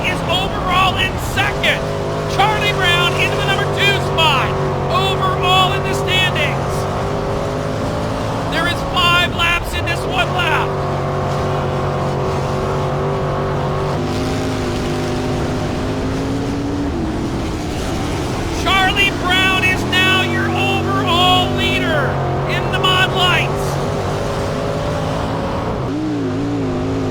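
Race car engines roar from an in-car view as modified sprint cars and stock cars run at the Hawkeye Challenge, a sustained loud drone rising and falling through gear changes, with a commentator talking over it throughout.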